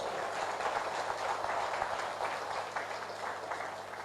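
An audience at a business opportunity meeting gives a sustained round of applause, dense clapping held at an even level with no pauses.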